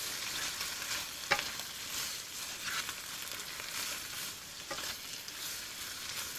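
Pak choy and prawns stir-fried with oyster sauce in a Malaysian kitchen, a soft even sizzle with two sharp utensil clicks against the pan and gentle stirring, fairly quiet and without voices.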